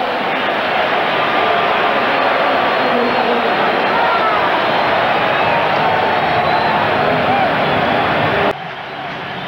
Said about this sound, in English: This crowd is still excited over Fred Barnett's touchdown catch, 47 yards.